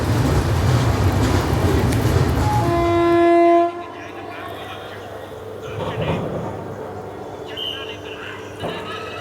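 Capital Express train on its run between Kamakhya and Siliguri, with a loud horn blast ringing out over steady rumbling, then quieter rolling wagon noise and clatter continuing after the horn stops.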